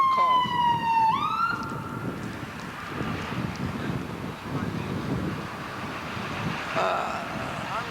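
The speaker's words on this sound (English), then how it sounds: "here are the police and the ambulance I've called" A police car siren and an ambulance siren wail as the vehicles arrive on a cold, windy day. The sirens sweep and then fade into distant traffic, with heavy wind buffeting the microphone.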